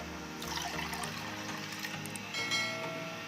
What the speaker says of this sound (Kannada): ಈ ಗ್ಲಾಸಲ್ಲಿ ನಾನು 2 ಗ್ಲಾಸಷ್ಟು ನೀರು ಹಾಕೋತೀನಿ